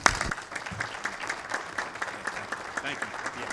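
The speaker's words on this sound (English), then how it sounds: "let's give him another round of applause." An audience at a presentation on the future of rail in North Carolina applauds steadily, a dense patter of many hands clapping at moderate distance, with a voice speaking over the start.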